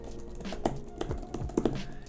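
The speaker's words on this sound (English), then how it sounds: "Now the keys themselves, let's see the travel." Typing on the keyboard cover of a Samsung Galaxy Tab S8 Ultra tablet: a close, steady run of light plastic key clicks and taps at an uneven rhythm, with no talking.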